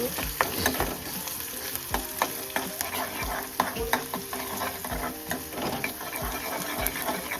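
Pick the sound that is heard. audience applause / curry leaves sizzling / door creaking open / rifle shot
curry leaves sizzling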